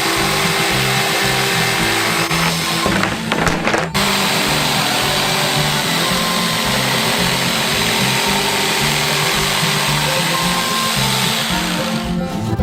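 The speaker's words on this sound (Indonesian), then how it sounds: "Bentuk bounty yang telah kita gambar, lalu memotongnya dengan gergaji kayu." A wood saw cuts through a wooden board for a giant DIY Kinder Country build, giving a loud, continuous buzzing drone with a rapid rhythmic chatter that barely pauses once before running steadily on.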